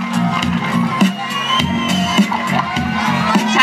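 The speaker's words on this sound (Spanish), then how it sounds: "¡Un aplauso para el Tiburcio!" A loud crowd of young people at close range shouts and cheers continuously, with raised voices blending together and occasional sharper bursts, as for applauding someone.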